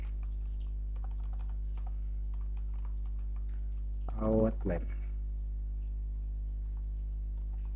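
Soft, faint key clicks from typing on a computer keyboard sit over a steady electrical hum, with a brief bit of speech midway.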